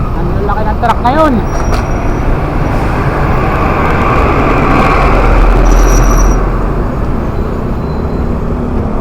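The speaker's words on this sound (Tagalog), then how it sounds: "Ang laki ng truck ngayon." Large truck passing close by on a busy road in Calamba, Laguna, a loud continuous rumble with brief squealing brake tones and hiss, heard from a road bike.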